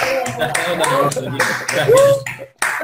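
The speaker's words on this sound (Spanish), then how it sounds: "Venga, vamos a aplaudirle que vamos a activar los micros." Audience clapping at a talk on mindfulness and resilience, with several close hand claps mixed under a speaker's voice and some laughter.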